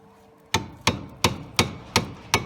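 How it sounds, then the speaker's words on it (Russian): Six sharp, evenly spaced hammer blows ring out close and loud during front strut replacement on a Ford Focus II, each strike decaying quickly before the next. "Забиваем."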